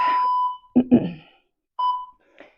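Workout interval timer giving electronic beeps: a long tone, a pause, then another beep, with a voice talking briefly between them.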